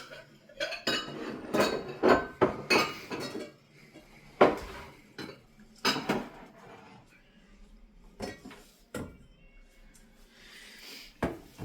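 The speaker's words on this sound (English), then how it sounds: "I'm going to take my lid here and we're going to let this simmer for a few minutes" Metal lid and utensils clatter against a pot of simmering scallop chickpea pasta, with several irregular clinks and knocks close by, loudest in a cluster near the start, then sparser taps.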